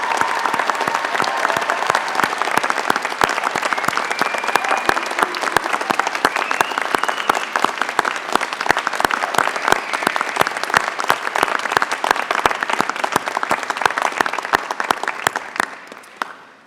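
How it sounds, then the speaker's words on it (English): A large crowd claps at a university graduation ceremony, loud and steady for about sixteen seconds with dense overlapping claps and light crowd murmur, then tapering off quickly at the end. "could you please join me in a round of applause"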